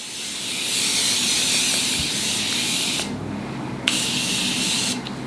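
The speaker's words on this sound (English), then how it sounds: "I like drown myself in setting spray." Morphe setting mist sprayed generously onto a face, a long continuous close hiss of fine spray with two brief pauses between sustained bursts.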